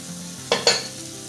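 Shallot, garlic and red peppers hit a hot sauce pot over medium heat with two sharp sizzling bursts close by, then settle into a quieter steady fry, with no talking.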